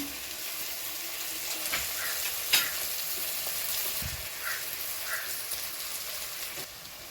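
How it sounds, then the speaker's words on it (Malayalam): Coriander and curry leaves fry in hot masala in a pan, giving a steady crackling sizzle with scattered pops and occasional spoon scrapes, moderately close and without voices. "ഇനി നമ്മളിതിലേക്ക് കുറച്ച് മല്ലിയലിയും കറിവേപ്പിലയും കൂടി ഇട്ട് കൊടുക്കുന്നുണ്ട്"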